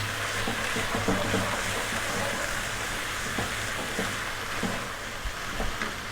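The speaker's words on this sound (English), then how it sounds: "we're going to add in 2 tablespoons of ginger garlic paste. And we're going to stir vigorously for 60 to 90 seconds" Ginger garlic paste being stirred vigorously in a hot pan for an Indian-style potato curry, a steady close broadband sizzle with scraping stir strokes running throughout, no voices.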